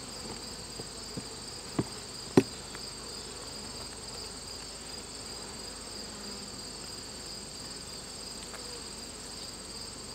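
Honeybees buzzing steadily in an opened backyard hive during a mite treatment, a constant close hum with a few faint knocks and clicks of handling, no talk.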